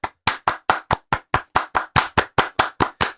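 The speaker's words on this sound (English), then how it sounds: "Clap with me." Hands clap a steady rhythm of about fourteen sharp, evenly spaced claps, close and loud, with silence between each one and no talking.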